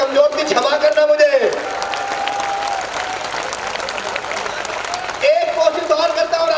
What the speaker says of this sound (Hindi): जहां 1 लाख लोग बैठे हो वहां इतनी कमजोर ताली नहीं होनी चाहिए